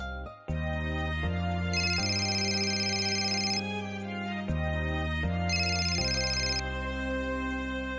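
A phone ringtone plays a repeating melodic electronic tune, loud and close, cycling twice through its pattern over eight seconds in a Marathi TV serial scene, with no talk.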